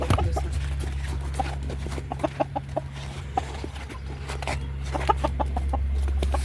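Short, sharp hen clucks pop up in scattered bursts over a steady low hum, with a few quicker runs of calls close by.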